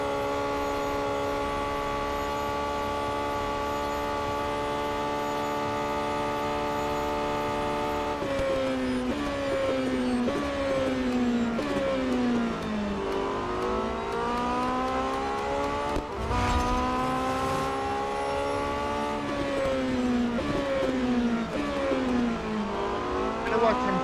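Racing car engines from the mobile game Real Racing 3 drone steadily, with gear changes shifting the pitch up and down through repeated accelerations. A voice talks over them throughout.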